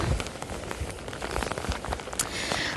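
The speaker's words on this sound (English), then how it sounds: "I don't know if you guys can hear the rain." Steady rain falling outdoors, a dense close patter of drops on surfaces with scattered louder splashes throughout, heard alone with no talking.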